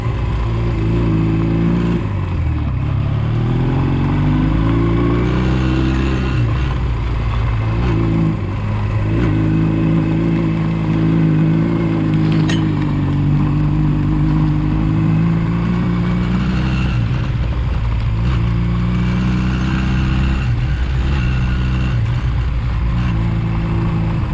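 A motorcycle engine pulls under throttle while riding over rough, muddy ground, its note rising and falling repeatedly through revs over a long steady stretch, loud and close with no voices.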